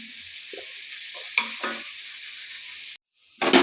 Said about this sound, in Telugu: మంచి కలర్ వచ్చిన వరకు వేయించుకోవాలండి ఎర్రగడ్డలు